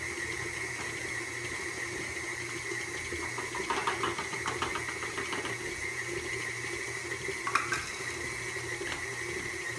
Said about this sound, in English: And then blend it until it forms a ball inside.